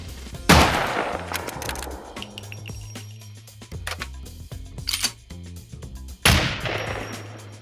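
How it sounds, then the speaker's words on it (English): Kar 98 and SVD rifle shots in the survival game SCUM crack out loudly, with sharp reports at the start and near the end and a softer one between, each trailing into a brief echoing tail. "They redesigned the gunshot sound for the Kar 98 and the SVD."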